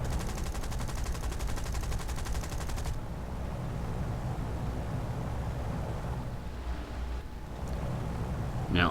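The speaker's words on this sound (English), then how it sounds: "I'm not a particularly great shot with these turrets, and they are only 7mm" Rapid 7mm turret machine-gun fire from a Lancaster bomber in a combat flight game, a dense rattling burst for the first three seconds, then steady engine drone and distant gunfire continuing underneath.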